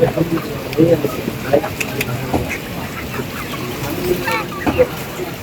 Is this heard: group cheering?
no